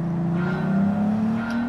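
Audi TT engine in Gran Turismo 7, a quick four-wheel-drive car, droning steadily and rising gently in pitch as it accelerates, loud and close with no talk over it.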